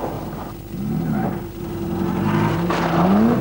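A rally car driving on gravel, its engine droning steadily and climbing in pitch as it accelerates, fairly close and continuous.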